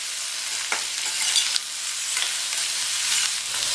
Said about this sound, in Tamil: இந்த காயை 2 நிமிஷம் போல் எண்ணெயிலேயே வதக்கி விட்டுக்கணும்